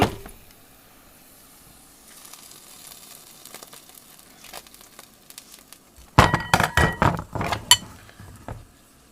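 A waffle maker lid is opened after cooking, with clattering and clinking metallic knocks and scrapes arriving in a dense burst after a quiet stretch, close and fairly loud.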